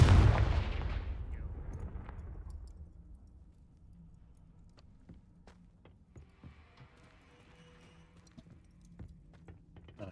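A Confringo fire spell goes off in Hogwarts Legacy as a loud fiery burst that fades slowly over a few seconds, leaving quiet ambience with faint scattered clicks.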